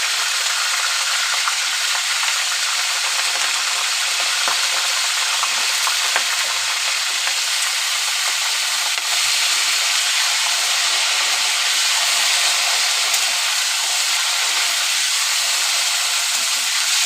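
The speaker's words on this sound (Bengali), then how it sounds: "ফুলকপিটা ভেজে নেব।" Cauliflower frying in hot oil in a home kitchen, a loud, dense, continuous sizzle and hiss with faint crackles, steady throughout and with no talking.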